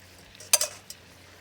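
Onion and garlic dropped into a hot pan outdoors give a brief bright sizzle with a couple of quick scraping stirs, then fade to a faint hiss against a quiet background.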